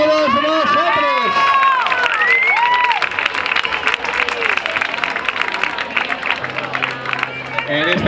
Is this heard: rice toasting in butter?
no